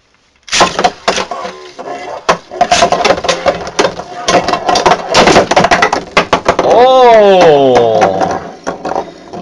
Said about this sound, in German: Hier hat definitiv der Galaxy Pegasus mit jeder Menge Kraft erstens den Ultimate Gravity Destroyer Attack rausgeschossen